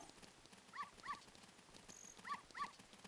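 A dog in the Zelda Ocarina of Time randomizer video game gives two pairs of short, high yips with a pause between them, faint over quiet background game sound.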